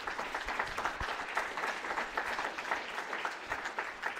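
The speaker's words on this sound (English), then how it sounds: "let's give a round of applause to Sarah Farrington, our Associate Principal of Operations." Guests at a Veterans Day breakfast give a round of applause, a moderately quiet, steady patter of many hands clapping from across a room.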